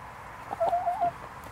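Rooster and hens on a small homestead flock, including Icelandic chickens, give a short burst of clucking calls at moderate distance over quiet outdoor background.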